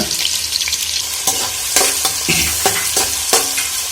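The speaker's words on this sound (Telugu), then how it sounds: "ఈ విధంగా మనం కొంచెం ఆయిల్ ఫ్రై చేసుకుంటే పచ్చివాసన పోయి మంచి టేస్ట్ అనేది వస్తుంది" Meal maker soya chunks frying in hot oil for a curry, a steady close sizzle broken by several sharp scraping stirs of a spatula against the pan, with no voices.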